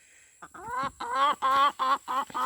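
A hen follows closely in the coop, giving a run of loud, repeated clucks in short bursts, alone and close by, with no talk over it.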